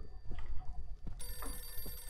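A telephone rings in the horror video game Visage. Low rumbling gives way to a bright, sustained metallic bell ring that carries loudly through the second half.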